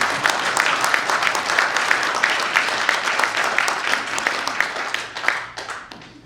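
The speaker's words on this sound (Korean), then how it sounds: "박수 한번 더 보내주십시오" Audience applause at a book launch event for a travel-writing book about walking along rivers, steady dense clapping from a crowd lasting several seconds before tapering off, with a faint voice underneath.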